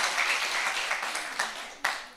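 Applause from a church congregation during a Friday worship service, a brief burst of scattered clapping that swells and fades with a sharp clap near the end.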